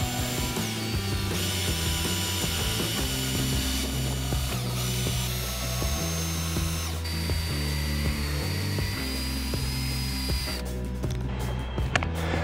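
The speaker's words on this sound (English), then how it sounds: "two more discs to go through, two more layers of polish to go through" Power tool spins polishing discs against a BMW headlight lens, a dense, continuous grinding whir with shifting pitch and rattling texture, loud and close throughout, ending with brief clicks.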